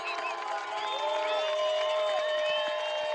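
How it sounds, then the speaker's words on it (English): A Portland Trail Blazers basketball arena crowd rises to its feet cheering in the closing seconds of a game, a loud sustained roar of shouts and whoops. "You can hear the Blazer crowd standing up and getting excited."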